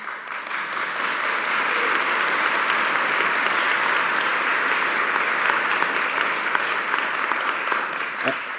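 Sustained applause from a large audience at a university presidential inauguration, steady and loud throughout, with no voices rising above the clapping.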